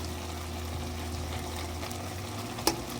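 Onions cooking in a pan at a Filipino home stove while stingray is prepared: a faint, even sizzle with a low steady hum underneath and one brief clink near the end.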